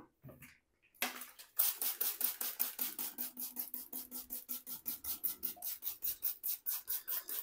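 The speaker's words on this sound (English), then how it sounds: "So I'll do a slight trim maybe, slight trim." Close, rhythmic snipping of scissors trimming a topper hairpiece, a quick regular series of about twenty sharp cuts, quiet and alone with no talk.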